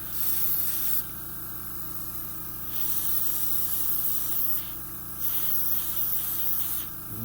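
An airbrush sprays paint onto a model in the Miranda/Hornet refit project, a close, steady hiss broken into several bursts separated by brief pauses, with no voice over it.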